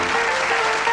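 A game show studio audience on Bullseye in 1985 bursts into dense, loud applause that holds steady for a brief moment, with no voices on top.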